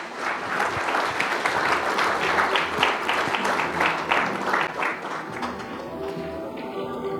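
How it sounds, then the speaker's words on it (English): A conference audience gives a keynote speaker a big round of applause after he is felicitated on stage, the clapping swelling loudly and then thinning out toward the end. "Everyone, please give him a big round of applause."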